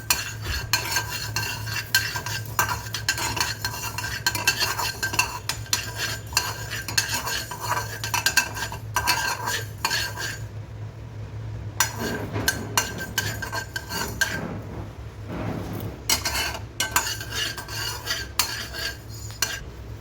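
Mustard seeds and fenugreek dry roast in a pan with continuous close scraping and stirring of a utensil against metal, and a few brief pauses in the stirring.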